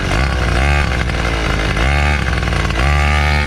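A large gas-powered RC truck engine, a Primal Raminator, runs steadily at a fast idle, loud and near, with a thick, buzzy two-stroke drone that swells slightly in places.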